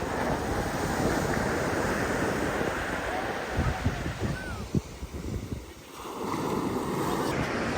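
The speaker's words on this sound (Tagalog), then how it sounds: "Medyo maalon po ngayon." Rough sea waves wash and roll onto a beach in a continuous loud surge, with heavy wind buffeting the microphone and a brief lull near the end before the roar returns.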